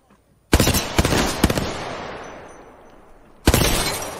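Apex Legends gunfire arrives in loud rapid bursts, a rattling volley with separate sharp shots that trail off into a fading echo, then another heavy burst near the end.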